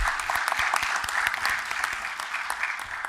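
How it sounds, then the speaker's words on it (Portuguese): Steady applause from a conference audience for a data protection panel, dense clapping throughout at an even, moderate level. "Uma salva de palmas para o Josmar, professor Josmar."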